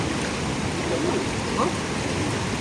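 Water rushes steadily in a loud, unbroken roar, like a fast-flowing river close by, with faint voices buried in the noise, beside a tunnel.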